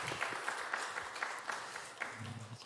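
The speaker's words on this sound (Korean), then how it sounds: "우리 한 번 더 우리 응원의 박수 한번 주겠습니다." A church congregation claps together at a Sunday service at Gileum Church, a soft, fairly distant patter of applause with a few sharper claps standing out.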